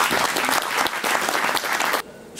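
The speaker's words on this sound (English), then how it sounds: "So please, let's give Arriva and his organization some applause." Audience applause at a film festival talk, loud dense clapping from a crowd that cuts off abruptly near the end.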